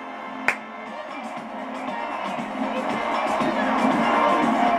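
A crowd cheers and whoops continuously in the video game Mario Kart: Double Dash, swelling slightly louder, after one sharp click at the start.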